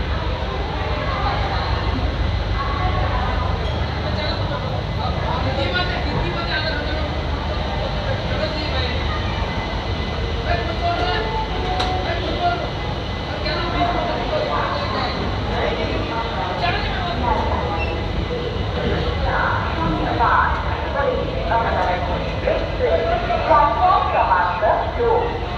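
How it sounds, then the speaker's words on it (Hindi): Onboard an ICF first-class coach of the 11405 Pune–Amravati Express as it pulls out of platform 2 at Pune Junction, a steady, loud rolling rumble fills the whole stretch while someone talks over it. "तो ये निकल चुकी है फाइनली हमारी ट्रेन"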